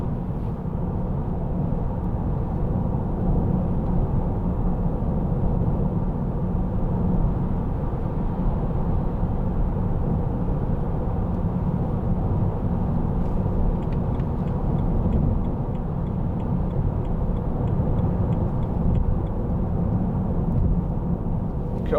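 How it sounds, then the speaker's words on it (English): A 2008 BMW 320i M Sport two-door on wide low-profile tyres and firm suspension rolls along the road, giving a constant low tyre roar and cabin rumble that holds steady throughout. "a little bit of tyre noise which you would expect anyway from the M Sport with the harder suspension"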